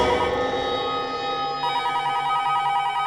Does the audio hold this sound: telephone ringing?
yes